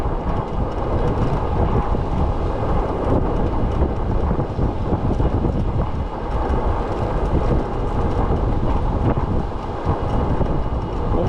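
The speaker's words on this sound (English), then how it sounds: "wind picked up right here" Strong wind buffets the microphone on a road trip to Clearwater, a loud, continuous rumbling roar with gusty surges and no pauses.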